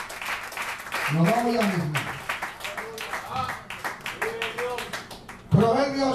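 Scattered clapping from a church congregation runs under a man's loud, excited preaching, with the applause rising and fading behind his voice.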